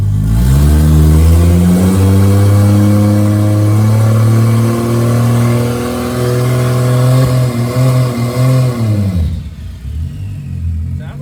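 A Toyota 2JZ engine is held against two-step launch control, its loud, steady mid-pitched revving drone sustained for several seconds with a slight rise near the end before cutting off abruptly into quiet.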